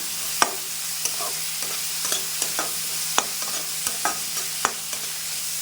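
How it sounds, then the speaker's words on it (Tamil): Onions and curry leaves sautéing in a pan while paneer corn pulao and egg thokku are cooked, heard as a soft steady sizzle broken by sharp, irregular clicks of a spoon stirring against the pan, with no talking. "வெங்காயம் ஆட் பண்ணி இதை கொஞ்சம் நல்லா வதக்கி விட்டுக்கலாம்."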